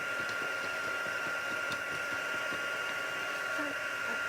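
A heat tool blows over glued card layers with a steady, moderate whir that runs unbroken, heard up close, with faint handling sounds beneath.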